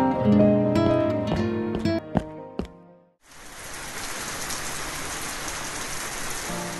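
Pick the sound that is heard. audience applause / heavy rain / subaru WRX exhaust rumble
heavy rain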